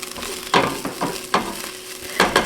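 Thai shrimp soup stirred in a hot pot, a few scraping spoon strokes over a steady low sizzle, close by and fairly loud with no talking.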